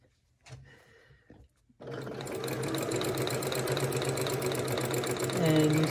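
A sewing machine stitches a cuddle scarf with a steady, continuous mechanical whir as the fabric feeds through. Close-up and fairly quiet, it starts after a few soft handling sounds.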